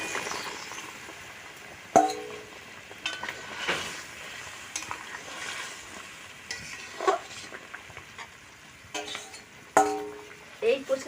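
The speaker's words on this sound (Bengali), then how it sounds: "এখন আমরা ভেজে রাখা মাংসটা কড়াইতে দেবো, ঝোলেতে দেব।" Browned desi chicken pieces go into a wok of gravy with lemon, giving a steady close sizzle broken by sharp clinks and scrapes of a spoon stirring against the pan.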